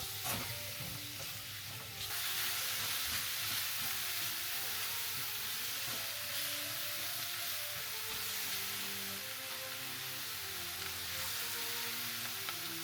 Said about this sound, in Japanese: 硬い野菜から順に炒めていきます。